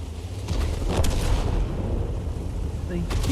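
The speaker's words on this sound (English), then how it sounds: "They keep lobbing the shells in." Shells from a tank battle game land as heavy booming impacts with a low rumbling roar, a couple of thuds standing out near the start over continuous battle noise.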